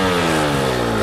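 A dirt bike engine roars loudly and steadily at close range, a buzzy rasping drone that holds for the whole brief moment.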